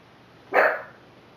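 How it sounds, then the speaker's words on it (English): A single short bark from a dog in another room of a house, sharp and moderately loud against quiet room tone. "apologize for my dog barking."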